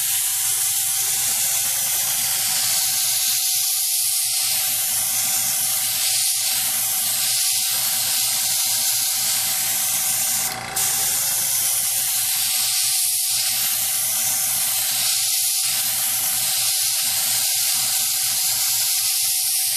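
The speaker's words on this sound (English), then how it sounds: "we're going to spray the paint on the wing" A dual action airbrush sprays paint onto a wing in light coats, giving a loud continuous hiss that runs almost unbroken, with a brief dip near the middle.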